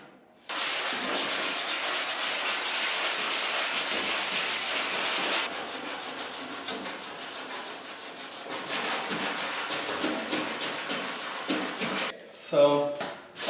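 Steady hand sanding scrapes over body filler on a 1943 Willys MB Jeep, close and continuous with a brief pause midway, ending with a short clatter.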